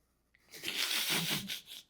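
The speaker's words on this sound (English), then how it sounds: "You saw the card shuffling." Tarot cards being shuffled by hand in a quiet room, a brief papery riffle and flutter lasting about a second and a half, close and fairly soft, with no voice over it.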